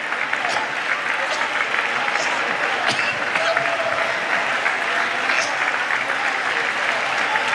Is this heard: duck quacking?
no